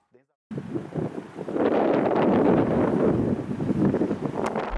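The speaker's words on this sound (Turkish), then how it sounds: "Denizli'de şiddetli rüzgar ve fırtına hayatı olumsuz etkiledi, ağaç devrildi." A strong wind storm in Denizli, Turkey, strong enough to topple trees, roars and buffets the microphone in a loud, continuous gusting rush that starts after a brief silence.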